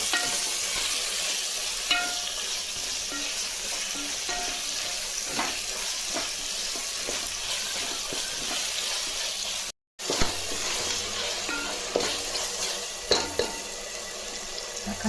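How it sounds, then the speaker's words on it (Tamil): Tomatoes sautéing in a pot for mutton biryani make a dense, close sizzle, with the sharp scrape and clatter of a spoon stirring them at intervals and a short break partway through. "தக்காளி எல்லாம் வதங்கிடுச்சு பாருங்கள்"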